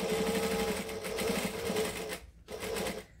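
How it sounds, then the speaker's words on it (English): A sewing machine top stitching a clutch bag 1/8 inch from the edge runs in a steady, close, even whir, stops briefly, then starts again for a short final run. "I'm now stitching 1/8 of an inch from the edge"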